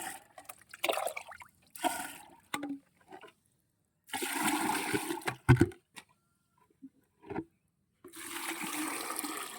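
Water pours and splashes into a bucket in several separate bursts, with quiet pauses between them and no talking.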